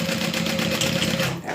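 Sewing machine running a continuous basting stitch over a backpack strap, a steady mechanical whir with a faint motor hum, close and unbroken for the whole moment.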